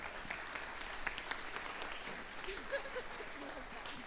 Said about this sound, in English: So, now that you clap for him, clap one more time.